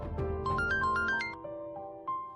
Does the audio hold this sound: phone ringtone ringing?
yes